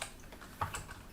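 Keys on a computer keyboard tapped a few times in quick, light succession, faint and close, with no voices.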